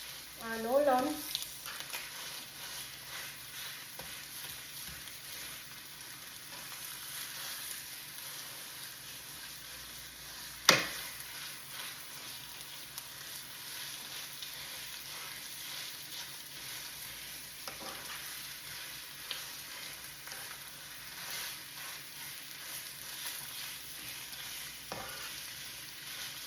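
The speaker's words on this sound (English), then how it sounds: "So the beef is being browned." Ground beef browns in a pan for a stuffed bell pepper topping, giving a soft steady sizzle with occasional scrapes of stirring and a sharp clink, heard close for nearly half a minute.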